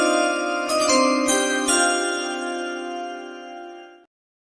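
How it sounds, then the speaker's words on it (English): Musical chimes ring out with a few bright metallic strikes, then a sustained ringing tone that slowly fades before cutting off abruptly. "speaking of musical chimes"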